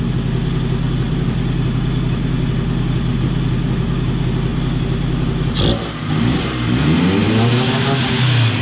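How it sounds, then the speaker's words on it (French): A BMW 318 IS fuel-injected petrol engine, running without its pump, idles steadily, close and loud, then briefly cuts out before picking back up with a changing pitch. "un moteur à injection qui tourne sans pompe"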